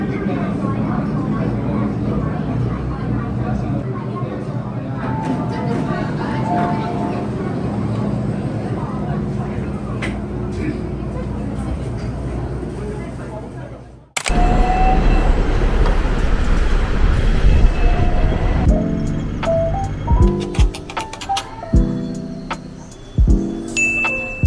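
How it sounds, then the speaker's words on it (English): The Peak Tram funicular in Hong Kong rumbles and clatters steadily, close by, with a sharp change midway to louder rattling and clanks; voices are faintly audible. "I still really wanted to ride the Peak Tram up to Victoria Peak."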